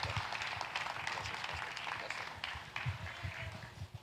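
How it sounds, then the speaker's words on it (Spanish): A church congregation applauds a visiting preacher from Guatemala, steady clapping spread across the room, moderately loud, with a low murmur of voices underneath. "Un aplauso fuerte al Señor."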